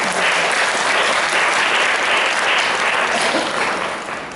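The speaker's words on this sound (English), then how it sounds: "Please clap for him." An audience at a talk on Carnatic and Arabic music claps for a speaker, giving dense, sustained applause that stays loud and even before easing off slightly at the end.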